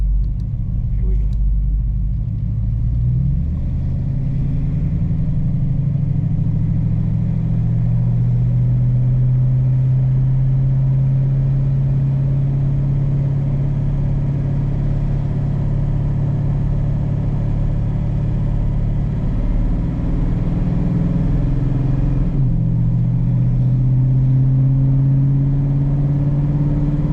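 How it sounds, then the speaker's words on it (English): A 1940 Chevy Special Deluxe drives along, its low engine rumble climbing in pitch and dropping as the transmission shifts through the gears, with a steady, close, moderately loud road drone throughout. "I'm going to clunk in the drive, and we're going to see how it shifts gears."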